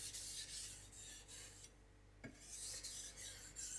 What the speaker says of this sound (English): I'm doing some full strokes just to make sure the bevel is uniform.